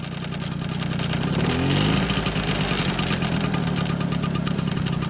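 A 1987 MBK 51 Magnum moped, low on coolant, runs close by with a steady buzzing idle and a faint rapid ticking, swelling slightly as it revs before settling back.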